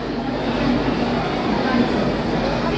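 The Himgiri Express stands at platform 4 of Deen Dayal Upadhyaya station at night, amid a steady broadband rumble of engine hum and crowd noise that fills the whole stretch.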